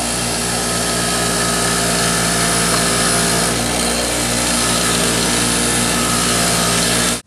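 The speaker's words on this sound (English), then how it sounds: "What I like to do is put it on the wire brush to clean this up." A bench wire wheel scrubs rust off a rear brake caliper pin from a Ford Taurus, a loud, continuous whirring grind that runs steadily before cutting off abruptly at the end.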